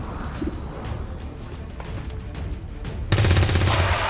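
Gunfire from the turn-based strategy game XCOM 2, a burst of loud shots erupting near the end after a stretch of quieter, rumbling game ambience.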